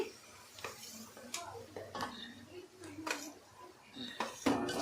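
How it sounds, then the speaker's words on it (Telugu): Semolina (rava), three glasses of it, is dry-roasted in a pan over a low flame, heard as a series of sharp scraping and clinking strokes of a spoon against metal, close and moderately quiet, with faint background noise. "చూడండి నేను వేయించుతున్నాను ఇట్లా దూరగా"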